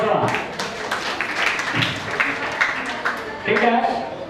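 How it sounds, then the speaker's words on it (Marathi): Residents at a community meeting clap together in a loose burst of applause, the patter running under nearby voices and chatter throughout. "मावशीसाठी जोरदार टाळ्या तुमच्या हक्कासाठी बांधले ते टाळ्या वाजवा."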